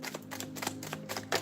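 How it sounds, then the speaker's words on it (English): Kipper deck cards are drawn and shuffled up close, a quick run of light, crisp clicks and snaps that is soft and brief, with no talking. "Let's get a few cards from the Kipper deck"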